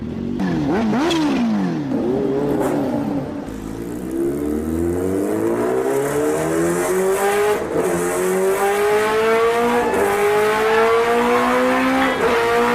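A race car engine revs hard, pitch climbing and dropping in repeated sweeps with tire squeal, loud and close throughout without any talking.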